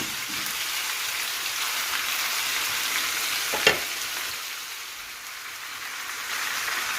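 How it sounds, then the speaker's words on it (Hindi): Cut tomatoes placed face down in a karahi to fry for Shinwari chicken karahi over lowered heat: a constant, close, hissing sizzle with one brief knock partway through. "अब हमने जो टमाटर काटे हुए थे तो हम इसके आँच को थोड़ा सा आहिस्ता करेंगे, और अपने टमाटरों को उल्टा करके रखेंगे"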